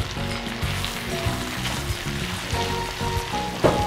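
Eggplant frying in a pan beside sautéed sausage for a farofa, giving a steady close sizzle with a low background hum and a brief louder crackle near the end.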